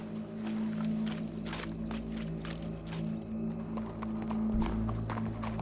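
Rhythmic clip-clop of horse hooves walking at a steady pace in the video game Red Dead Redemption 2, over a low hum of background ambience, with no talking.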